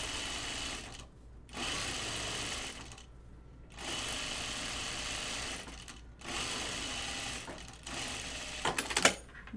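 A sewing machine stitches the placket of a button-up shirt in several steady whirring runs, each a few seconds long, with short pauses and a faint clatter at the end.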